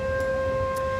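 A siren sounds as a steady, held wail with clear overtones for the full second, loud and constant, with no voices over it.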